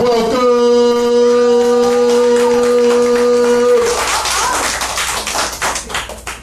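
A sustained, held musical tone cuts off, and an audience at a spoken-word event in a community cafe breaks into dense clapping that gradually thins out.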